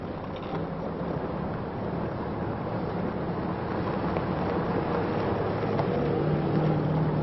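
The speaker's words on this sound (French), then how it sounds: "Des centaines de véhicules étirés sur 40 km." A convoy of military vehicles from a motorized infantry regiment grinds along stony desert tracks in the 1979 Moroccan Sahara, producing a dense, continuous engine rumble with wind noise and no break.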